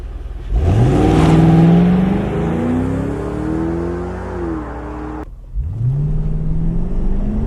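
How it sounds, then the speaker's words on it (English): A Ford Mustang GT with Continental Extreme Contact DWS 06 tires launches with traction control off, its engine revving loudly and rising through a long pull, cutting off briefly at a shift, then climbing again close by. "Getting ready to launch it. Turn traction control off. Overdrive off."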